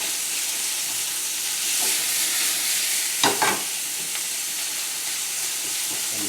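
Smoked pork, darkened with black garlic, sizzles and fries steadily in a pan, a constant close hiss with a brief stirring scrape partway through.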